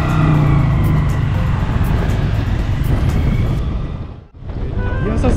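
A Honda Grom MSX125 with a 125cc engine being ridden: a loud, steady engine hum under strong wind buffeting, which briefly dips almost to silence before returning.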